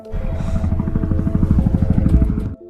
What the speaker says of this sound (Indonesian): tiba-tiba terdengarlah suara helikopter